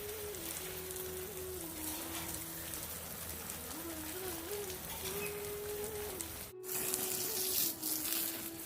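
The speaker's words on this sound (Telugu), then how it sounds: "ఈరోజు కృష్ణయ్యకి లాల పోస్తున్నాను అనుకుంటూ ఈ నీళ్లు పోస్తూ ఉన్నానండి" Water poured in a steady stream while a deity idol is given a ritual bath, a continuous close splashing and trickling with a faint voice underneath.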